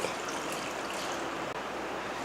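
Water poured into a cooking pot of boneless mutton sprinkled with turmeric powder, a steady close splashing trickle lasting throughout with one brief break.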